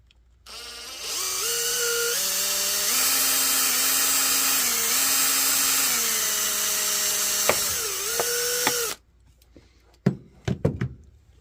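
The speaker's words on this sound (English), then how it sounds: "Since these are a little bit shorter, I will have to drill that separately." A small electric drill whirs steadily for several seconds, drilling a hole in an Axial SCX10 III CJ-7 RC car hood, its pitch dipping under load, then stops; a few knocks and clicks follow.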